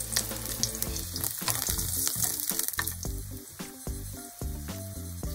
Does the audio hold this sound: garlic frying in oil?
yes